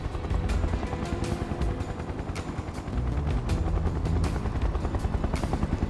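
In Final Fantasy VII Remake, a helicopter's rotor thumps in a fast, steady chop, loud and close, with a rumbling engine drone beneath and no voices.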